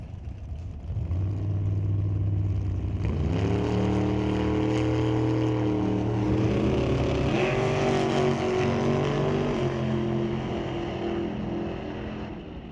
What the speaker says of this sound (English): Mark Simmons in the dragster. Jace in the Nova.